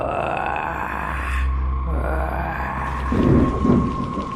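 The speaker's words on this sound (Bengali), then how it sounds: "ঝিরিঝিরি বৃষ্টি এখন কিছুটা জোরে পড়তে শুরু করেছে" A cartoon sound effect of rain growing heavier over a graveyard at night carries a deep rumbling, thunder-like backdrop that swells louder toward the end.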